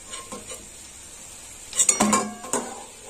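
Capsicum pakoras being lifted from hot frying oil, with a soft sizzle and a few metal clinks of utensil against the pan, a brief cluster of scraping and clinking late on.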